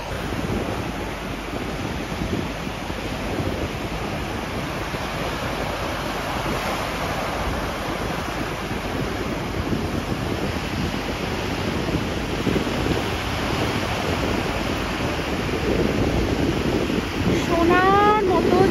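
Sea waves washing continuously onto a golden, white-sand beach in Goa, a broad roaring surf wash mixed with wind buffeting the microphone, steady and loud throughout with a faint bird chirp near the end.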